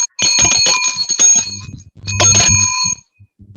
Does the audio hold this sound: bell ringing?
yes